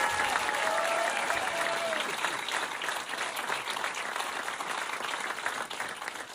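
A large audience at a comedy show applauds steadily, dense clapping holding at an even loud level throughout with no break.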